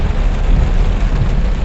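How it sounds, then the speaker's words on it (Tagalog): Heavy rain pours during flooding in Sta Maria, Bulacan, a loud, dense, unbroken roar of water close by with no gaps. "Mukhang matagal hinto ang ulan."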